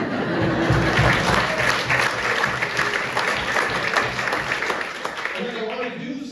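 A town hall audience claps together, a dense, steady wash of applause close by that holds for several seconds before thinning slightly at the end, with a faint voice near the close.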